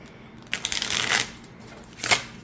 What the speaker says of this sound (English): I don't have any issues shuffling this deck